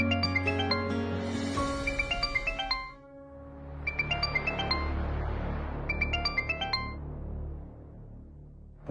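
A melodic phone ringtone plays in chiming bursts, repeating its tinkling tune three times at moderate volume with pauses between.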